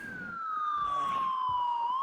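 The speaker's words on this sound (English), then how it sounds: "Good news is if I zoom out, the frickin' the siren isn't as loud." A loud wailing siren in the zombie survival game Project Zomboid, sweeping steadily and blaring continuously on its own.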